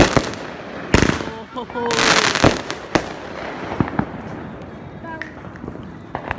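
Fourth of July fireworks finale bursting in rapid succession, with sharp loud bangs, crackling volleys and whistling trails packed close together, while people exclaim over the display.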